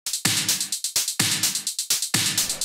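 Simple electronic drum hits for EBM play in a quick steady pattern, sharp punchy percussive strikes repeating evenly, loud and dry with nothing else around them.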